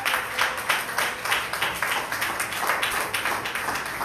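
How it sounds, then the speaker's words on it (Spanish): Congregation clapping during a church service, a steady run of overlapping hand claps with a loose rhythmic pulse, moderately loud and close throughout. "Un gran aplauso al Señor Jesucristo"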